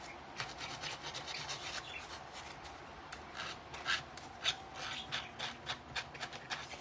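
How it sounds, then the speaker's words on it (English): Rasping strokes of a sanding brick worked over a small wooden flower, a steady rubbing texture with sharper scrapes toward the end, close and fairly quiet with no talk. "And then I'm going to sand the flower."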